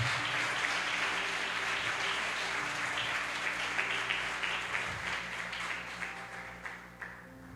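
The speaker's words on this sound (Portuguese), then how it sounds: "Aplauda bem forte ao Senhor por essa palavra" A church congregation applauding during a sermon, sustained clapping over a low steady hum with faint musical tones underneath, gradually thinning toward the end.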